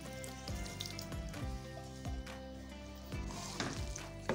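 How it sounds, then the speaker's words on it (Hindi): Hot tadka tempering hits a pot of daal mash and sizzles quietly, with bright crackles and a few sharp pops over a soft background hum. "अब हम तड़का ऐड करेंगे।"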